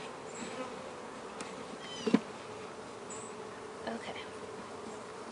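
Honey bees buzz around an open hive during a hive inspection in 2018, a steady, moderate hum with a few brief louder knocks and handling noises over it.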